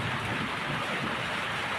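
Steady rain falls in an outdoor setting, giving a constant, dense hiss that stays even and fairly loud for the whole moment, with no voices.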